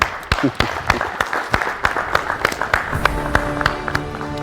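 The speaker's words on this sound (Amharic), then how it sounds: "አጨብጭቡላት።" Studio audience applauding the contestant eliminated from a televised competition; steady dense clapping with sharp individual claps throughout, fairly close, with a faint tonal musical sting entering near the end.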